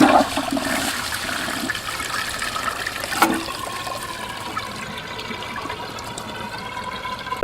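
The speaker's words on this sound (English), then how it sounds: "Let's pull the flush lever." A wall-hung toilet flushes with a loud rush of water, then settles into a gurgling, trickling refill that continues steadily to the end, close and alone without talk.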